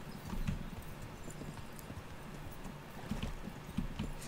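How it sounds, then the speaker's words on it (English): Horse hooves clip-clop in steady rhythm on a path in the video game Kingdom Come: Deliverance, a soft, fairly quiet trot continuing throughout with no speech over it. "I mean, it's clear that Pebbles is like the worst horse out there"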